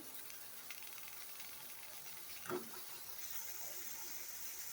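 Drumstick (moringa) stems for iron-rich moringa stem rasam drop into a pot of boiling water in a kitchen, giving a brief splash near the middle over a steady, faint hiss of simmering water, with no talking.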